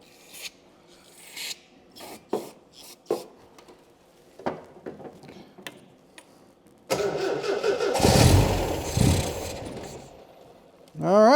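Two MG BGT cars that have sat unused for years, one engine cranking in short uneven bursts before catching and running loudly for a few seconds, then cutting out; close and alone without talk.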